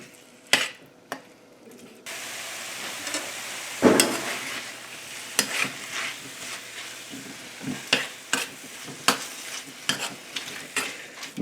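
Chicken fajita meat being stirred in a hot pan, with a steady close sizzle and repeated sharp scraping clacks of a utensil against the pan at irregular intervals.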